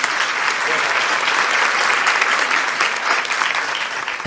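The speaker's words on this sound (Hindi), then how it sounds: "एक बार जोरदार तालियां" The audience at a Hindi kavi sammelan poetry recital breaks into loud, dense applause for a comic poet, a thick continuous roar of many hands that stays strong throughout and tapers slightly at the end.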